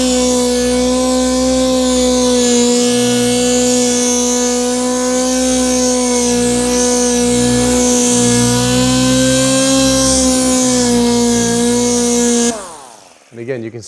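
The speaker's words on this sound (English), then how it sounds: "Now we can kind of give the surface a small spray of water and kind of start sanding it out." Wet sanding of the clear coat on a 1940 Ford-inspired hardtop coupe produces a loud, steady mechanical whine with a strong humming drone, held nearly constant and up close for about twelve seconds before stopping suddenly.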